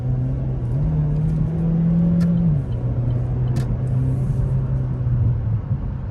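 The engine of a 2019 Chevy Cruze revs up as the car accelerates, a steady droning tone that climbs in pitch and then settles back to a lower hum, heard from inside the cabin.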